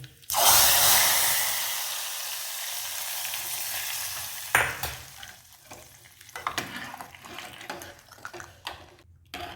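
Hot tempering of curry leaves and asafoetida hits the dal for Gujarati dal dhokli with a loud burst of sizzling that fades into a steadier crackle, followed by a few stirring clatters.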